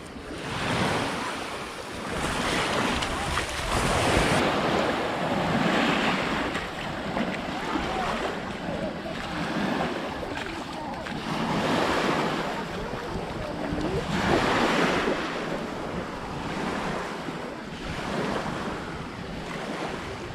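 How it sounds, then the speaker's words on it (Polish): Waves breaking and washing on Luna beach, a narrow beach on Sardinia's east coast with turquoise water, heard as a continuous loud surf roar with rolling swells, mixed with wind buffeting the microphone. "Teraz kolejna plaża. Luna, jedna z ładniejszych tutaj na wschodnim wybrzeżu."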